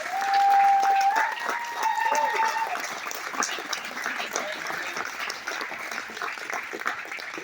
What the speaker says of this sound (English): Let's give a big round of applause for these students.